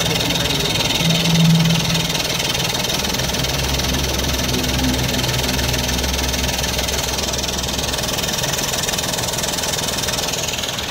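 A diesel car with a jammed, hard-turning turbo idles steadily and close by, a continuous loud rumble with a faint rhythmic knock and a brief whine early on.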